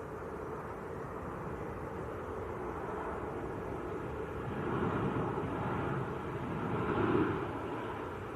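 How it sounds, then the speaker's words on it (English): Ryanair airliner on final approach to Manchester Airport, a faint distant engine rumble that swells slightly midway and near the end over steady background noise. "Ryanair on finals."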